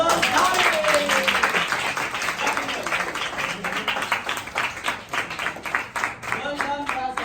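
A room full of people clapping at an award announcement, dense applause at first that thins into scattered individual claps, with a voice speaking over the start.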